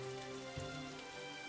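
Steady rain patters as a soft, continuous hiss over a low, constant hum, with one dull thump partway through and no voices.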